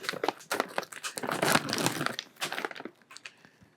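Crinkling plastic wrapper of a bag of Barnum's Animal Crackers torn open up close, a burst of loud crackling and tearing that fades into scattered rustles.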